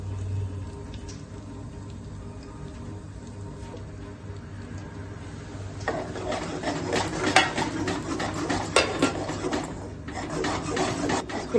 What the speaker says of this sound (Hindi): इसको लगातार घुमाते रहने का है, गुलाबी रंग का करने का है।